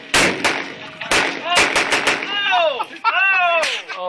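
Gunfire from a viral video of a shooter plays loudly, several sharp shots and bursts in the first two seconds, followed by a voice and tonal sweeping sounds with another shot near the end.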